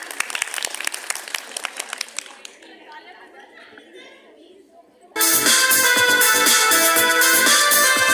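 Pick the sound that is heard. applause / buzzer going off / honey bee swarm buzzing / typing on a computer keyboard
applause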